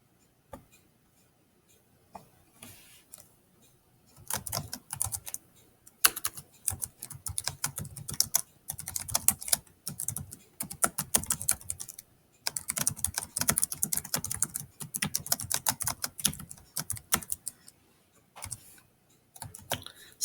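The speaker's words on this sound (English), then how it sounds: "I'm having a hard time typing." Fast, irregular typing on a computer keyboard, bursts of close clicking keystrokes running steadily with brief pauses between them, no voices present.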